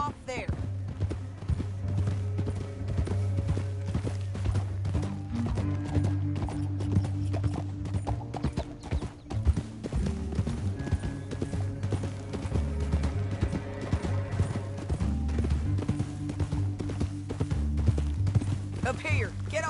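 Video game horse hooves clip-clop rapidly in a steady galloping rhythm throughout, in Red Dead Redemption 2, with voices talking over the hoofbeats and a low musical drone beneath.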